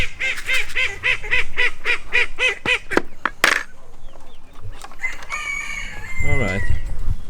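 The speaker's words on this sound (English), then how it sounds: "Oh no, there's still 1 chicken left. Oh no, even 2 that escaped." Escaped backyard chickens cluck and call in a rapid repeating run of honking, goose-like squawks up close, followed by a few sharp knocks and a drawn-out crowing cry near the end.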